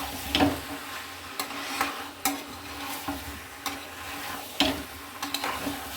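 Spices and potatoes being stir-fried for aloo dum, with irregular scraping and clinking strokes of a spatula against the pan over a soft sizzle, close and moderately quiet.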